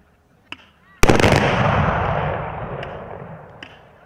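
Black-powder Böller salute guns fire at a New Year shooting held by the Edling Böller marksmen: a sharp crack followed by a loud, rolling boom that slowly fades, with a few faint distant shots before and after.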